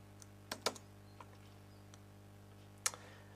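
Typing on a computer keyboard, a few quiet scattered key clicks with a short burst of quick taps and a later single sharp click, heard alone over a low steady hum.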